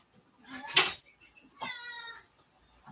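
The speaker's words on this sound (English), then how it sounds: "It's my neighbor's cat." A neighbor's cat meows twice nearby, a short sharp cry followed by a longer drawn-out meow, with quiet room sounds between.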